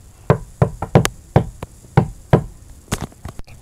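Knocking on a door: about a dozen sharp, close raps in uneven clusters, loud and distinct with no voices over them.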